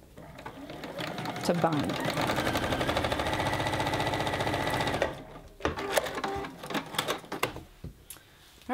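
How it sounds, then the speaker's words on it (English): Sewing machine stitching a quarter-inch seam on fabric for a reversible round basket, a fast even mechanical rattle running for a few seconds, then stopping as a person speaks quietly nearby. "we're gonna just stitch right here, a 1/4 inch seam allowance"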